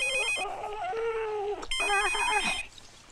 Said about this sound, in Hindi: मैं अभी अभी आशीष को फोन करता हूँ।